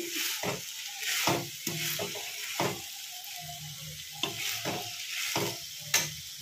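A fig curry is stirred in a pan, with repeated scraping and clanking spoon strokes over a soft simmering sizzle, irregular bursts spaced a second or so apart.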